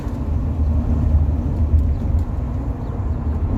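A Rover 45 Impression S3 with a CVT gearbox accelerates along a road, a loud steady low engine drone with road and tyre rumble heard from inside the cabin, with no talk.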